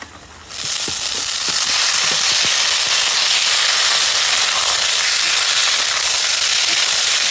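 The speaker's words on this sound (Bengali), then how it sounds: "তো পেঁয়াজগুলো একটু ভেজে নিয়েছি, এবার মটরশুঁটিগুলো দিয়ে দেবো" Peas tipped into a pan of fried onions set off a loud, steady sizzle and crackle after a brief quieter start, with a few clatters of the peas landing underneath.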